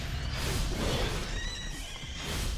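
A big horse in the video game Tokyo Jungle neighs while under attack, a loud, close whinny rising and wavering over a couple of seconds amid scuffling game noise.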